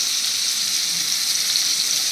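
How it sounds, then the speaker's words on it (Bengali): Potatoes fry in oil seasoned with salt and turmeric, giving a close, steady, even sizzle that carries on alone without any talking. "এবারে আলুগুলোকে ভালো করে ভেজে নেব।"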